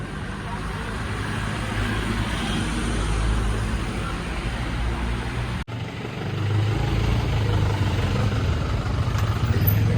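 Cars sit idling in a dense traffic jam on the road from Pune toward Kedarnath, a steady low engine rumble and roadway drone heard from close by inside a vehicle, with a voice talking over it.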